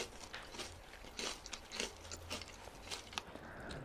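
Loud, close crunching and chewing of crispy fried chicken, with repeated crisp bites and crackles throughout and no talking.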